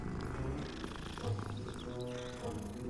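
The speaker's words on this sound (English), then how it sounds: "Ooh, a pretty kitty." A cat purring in the Hogwarts Legacy video game, a steady low rumbling purr that runs continuously at moderate level, with faint game ambience around it.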